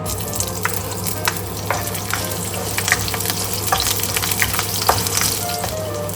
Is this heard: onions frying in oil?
yes